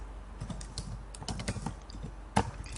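Quick, steady typing on a computer keyboard while writing code for a singly linked list function: soft, close key taps in a continuous patter, with one sharper keystroke near the end.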